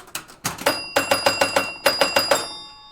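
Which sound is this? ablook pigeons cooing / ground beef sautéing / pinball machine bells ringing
pinball machine bells ringing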